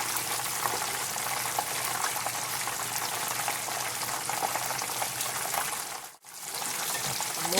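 Crab rangoon frying in hot oil gives a steady, dense sizzle with small pops all the way through, heard up close. The sizzle briefly drops out near the end and then comes back.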